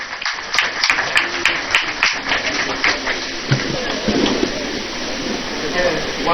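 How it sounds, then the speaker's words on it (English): An audience at a Ghanaian port and maritime sector engagement event in Tema claps in a broad round of applause, steady and moderately close, with some speech mixed in. "Let's give him a round of applause."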